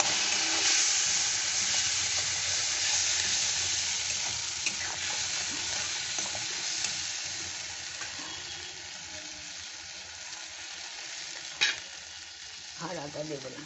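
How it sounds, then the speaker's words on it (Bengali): Lentil and eggplant dal sautéing in a pan with a little water, a continuous soft sizzle and bubbling hiss with occasional stirring scrapes and a brief clink near the end, close but quiet, with no talking. "এটা একটু কষে নিই।"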